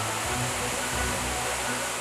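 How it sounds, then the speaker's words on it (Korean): A powerful waterfall, Suok Falls, roars continuously, a dense, steady rush of crashing water heard up close. "어마어마한 양의 폭포수가 떨어지며 만들어내는 경이로운 자연의 소리"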